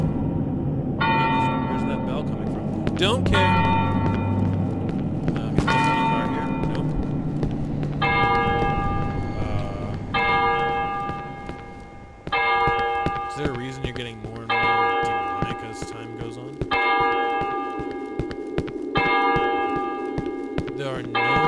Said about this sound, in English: Where's that bell coming from?